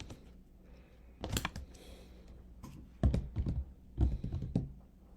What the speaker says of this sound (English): I'm going to split the cards.